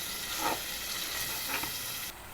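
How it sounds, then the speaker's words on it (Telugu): Boiled mutton sizzles steadily in frying masala in a pan, a continuous close hiss with faint stirring scrapes and no talk. "ఉడకబెట్టుకున్న మటను ఇలా ఏగుతున్న దాంట్లో ఇలా వేసేసుకోవాలి"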